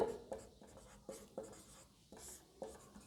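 Chalk or marker writing on a board during a sociology lesson, a quiet run of short scratchy strokes in a loose repeating rhythm, close and faint.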